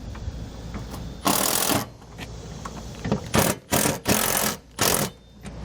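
A power driver runs bolts into RV awning arms on a Solera XL 12V power awning, giving short, loud bursts of whirring spaced irregularly, one longer run followed by several quick pulses, with quiet gaps between and no talking.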